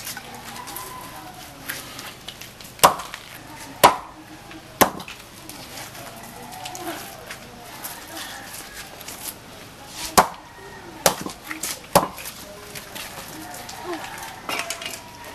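Hot mochi rice dough is pounded by hand, with sharp, sporadic thudding blows spaced irregularly over a quiet background, and people talk softly between strikes.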